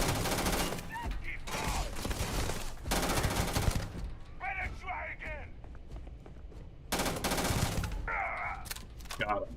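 Rapid bursts of automatic gunfire in the sci-fi video game Starfield, loud and dense in several volleys separated by quieter stretches with game effects.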